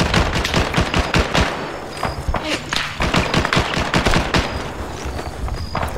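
Rapid automatic and single-shot gunfire in Arma 3 during a military firefight near a heliport, with loud, dense bursts of shots and thuds throughout.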